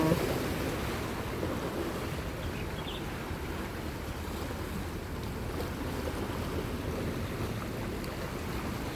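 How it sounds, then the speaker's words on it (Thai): A calm sea at Wah Kwai Estate in Hong Kong gives a steady, soft rush of gentle waves under wind noise, faint and constant throughout. "ลื่นทะเลก็ไม่ค่อยแรงเท่าไหร่นะคะเพื่อน"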